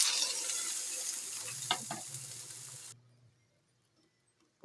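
Garlic and ginger sautéing in a pan for chicken adobo, an even sizzling hiss with a few stirring clatters that cuts off abruptly near the end, leaving near silence.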